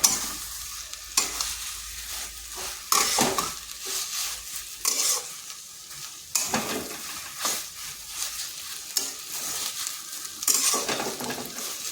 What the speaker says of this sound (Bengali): এরপর এইভাবে 3 থেকে 4 মিনিট নেড়ে নিচ্ছি, একটু ভাজা ভাজা হয়ে যাবে।